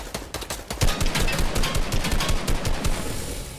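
A robot fires a gun without pause in a shooter video game, producing a loud, dense stream of rapid automatic shots that keeps up steadily throughout with no talk over it.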